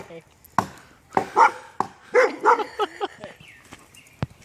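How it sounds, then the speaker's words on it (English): A dog barks in short, irregular bursts nearby at a campsite, several sharp barks scattered among quieter thumps and some voice. "And now she's barking at it."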